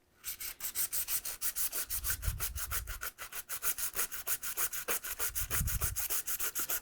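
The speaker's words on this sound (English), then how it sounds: "You can start sanding." Aluminum being hand-sanded to strip its anodized coating before epoxy bonding, with steady rhythmic back-and-forth rasping strokes, close and loud, about four strokes per second, with no talk.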